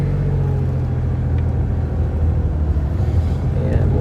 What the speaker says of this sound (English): So we're going to start the car up.